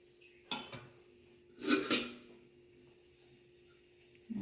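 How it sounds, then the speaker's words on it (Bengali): A metal spoon stirs garam masala into chicken curry in a pot, making a few quiet clanks and scrapes against the pot with long silent pauses between them. "গরম মশলা দিয়ে মিশিয়ে দিলাম।"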